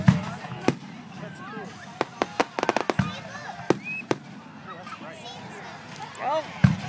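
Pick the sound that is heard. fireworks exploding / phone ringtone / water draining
fireworks exploding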